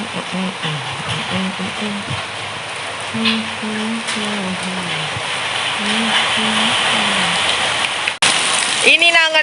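Steady rain falls outdoors in a rural farming setting as a continuous wash of hiss, with a woman singing over it and a sharp crackle near the end.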